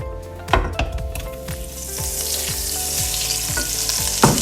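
Butter melts and sizzles in oil in a cooking pan, giving a bright, continuous frying hiss with sharp clinks and stirring knocks at intervals over four seconds.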